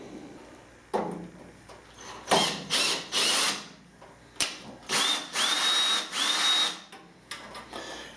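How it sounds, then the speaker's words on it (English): A power screwdriver backs screws out of the casing of a Pace digital receiver in a series of close, whirring bursts, around eight short runs with pauses between them. "let me start taking some screws out"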